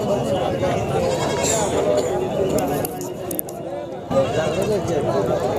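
Young lambs, about one and a half to two months old, bleat amid the busy crowd at a goat and sheep market in Sangola, their cries mixed into constant nearby chatter and people talking.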